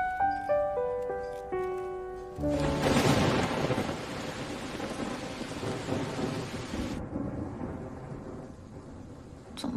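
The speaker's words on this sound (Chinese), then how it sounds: "怎么下雨了？" A soft melodic tune gives way to a loud burst of thunder and a steady downpour of heavy rain, with no talking.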